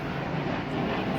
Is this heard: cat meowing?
no